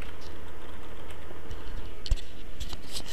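Typing on a computer keyboard: scattered soft key clicks with one sharper tap, faint beneath a steady background hiss, no voices.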